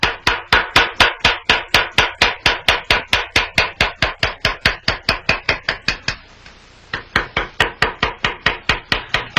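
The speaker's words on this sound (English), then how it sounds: "A round bottom chisel is used for cutting lobes and leaves." A round bottom chisel struck by a hammer as it cuts engraving into a gun side plate, a rapid, even series of sharp metallic taps close up, with one brief pause before the tapping resumes.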